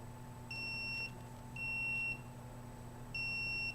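Electronic alarm beeping inside a home, three steady two-tone beeps each lasting about half a second, evenly spaced over a constant low electrical hum, moderately loud with no talking.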